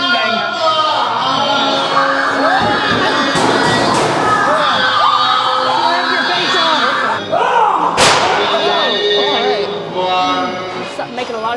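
Heavy thuds and bangs against a wall in a dark haunted escape room, sounding amid constant excited shouting and screaming from a group.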